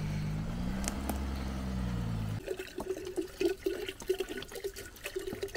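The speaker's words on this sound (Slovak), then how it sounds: "Tak napúšťam vodu." Water being filled and poured out, starting with a steady rushing flow that cuts off, followed by irregular splashing and spilling sounds at close range.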